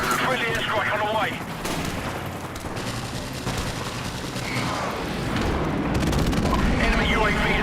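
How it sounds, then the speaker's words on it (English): A friendly airstrike in the Call of Duty video game sets off a string of booming explosions with crackling gunfire. Game voice lines come through briefly at the beginning and the end. "Friendly airstrike on the way."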